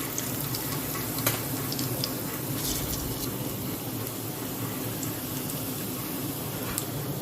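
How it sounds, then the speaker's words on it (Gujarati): Cumin seeds crackle and sizzle steadily in hot ghee for jeera rice, a dense continuous frying hiss with light stirring clinks, close and fairly loud. "એમાં જીરું ઉમેરીશું"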